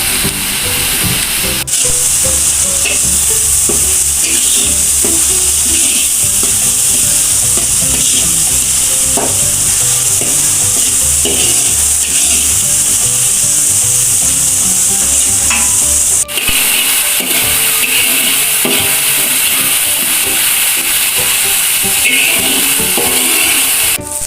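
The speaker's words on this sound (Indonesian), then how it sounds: "Cabenya kita goreng sampai kering ya Bunda." Chili peppers for Minang-style balado fry in hot oil, a loud steady sizzle with clinks and scrapes from stirring in the pan running throughout.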